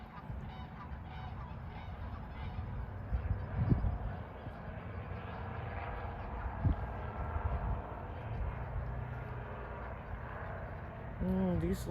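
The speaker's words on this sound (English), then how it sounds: "These look like different swans." Swans honk and call at a migratory bird sanctuary in Fairbanks, Alaska, a few distinct calls rising faintly over steady outdoor background, with people talking quietly nearby.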